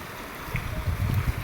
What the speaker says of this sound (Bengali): মাছ ধরার জন্য বোট যাচ্ছে।